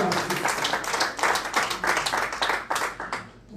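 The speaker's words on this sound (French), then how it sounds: "Nous allons applaudir pour lui." Audience at a Congolese press conference honouring a music star claps with loud, busy, irregular hand claps close by, mixed with cheering voices throughout.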